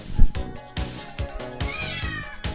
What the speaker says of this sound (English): Kitten. We're not gonna meow anymore.